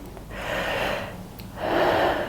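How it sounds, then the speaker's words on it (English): Two airy breaths are drawn in through an open mouth, close and fairly loud, the second fuller and stronger than the first, with a short gap between them. "If you then try a mouth breath,"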